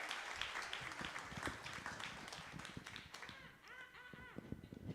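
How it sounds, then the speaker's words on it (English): Audience applause at a spring church event as a woman walks up to the stage, dense clapping filling the room and thinning slightly toward the end, with scattered voices underneath. "yes, you can clap as she comes up."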